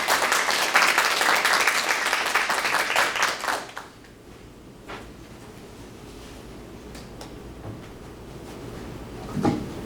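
Audience at an academic award ceremony claps to welcome a donor to the podium, a loud burst of applause that fades out within a few seconds and leaves quiet room tone with scattered soft knocks.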